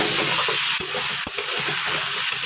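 Whole cumin seeds and bay leaves fry in a small amount of hot oil, giving a steady, close sizzling hiss that runs without a break, with a couple of faint clicks from stirring.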